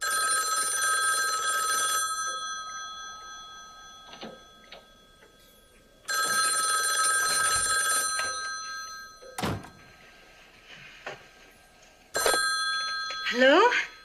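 An old telephone rings in the horror film Black Christmas, three long shrill bursts of bell ringing separated by quiet gaps with faint thuds, the last burst cut off.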